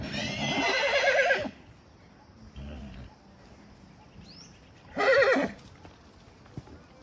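A horse gives a loud whinny, then hooves clip-clop briefly before a second sharp neigh, near and clear with quiet gaps between the sounds.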